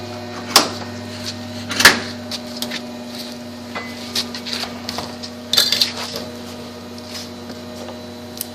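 A welded metal test coupon from solid state welding is peeled apart in a few sharp bursts, metallic creaks and tearing snaps over a steady electrical hum in a quiet workshop.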